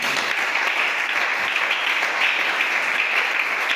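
Church congregation applauding steadily, a dense even wash of clapping that fills the whole stretch without a break, loud and close, with no talk over it.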